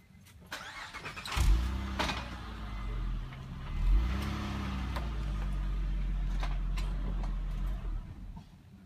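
A car engine starts with a brief crank, then idles and revs as the car pulls forward beside a Cricket camping trailer, heard fairly close with no talk.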